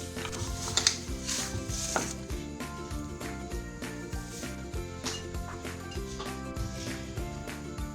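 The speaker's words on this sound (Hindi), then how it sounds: "इसको अच्छी तरह गूंद लूँ" Sweet dough for meethi tikiyan kneaded by hand with milk, a soft rhythmic pressing and slapping repeated about once a second, close and moderately loud, with no speech.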